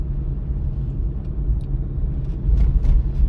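Car drives at about 30 km/h along a driving exam route, with a steady low engine and road rumble heard from inside the cabin, swelling slightly near the end.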